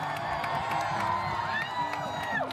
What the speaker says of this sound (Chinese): 所有人都欢呼喝彩。